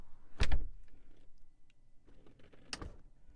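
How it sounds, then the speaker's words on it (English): A soft-close door on a 2020 Maserati Levante Trofeo SUV pulls shut with two muffled thumps a couple of seconds apart, with a faint mechanical whir and small clicks between them. "show you the soft closed doors in action"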